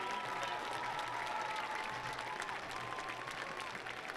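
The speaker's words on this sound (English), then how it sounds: "How about a big round of applause for all 14 members this year?" A crowd at a football homecoming game applauds, a continuous broad clapping from many people heard at a distance, with faint voices beneath.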